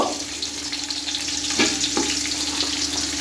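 Onions frying in hot oil in a pan for Thai-style fried rice, a steady close sizzle running throughout with a couple of soft stirring clinks, no talking.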